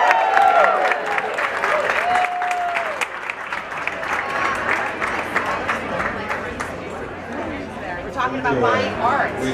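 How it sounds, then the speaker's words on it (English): A large audience at an art gallery event claps loudly and steadily, with chatter and scattered cheers mixed into the applause throughout. "Let's give her a big round of applause"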